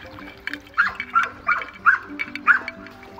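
A dog gives a short series of sharp barks and yips in close succession, loud and near, with a faint hum in the background.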